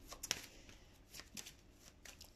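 Tarot cards are shuffled for a love reading: a few soft, close riffling and sliding bursts, fairly quiet, with no speech.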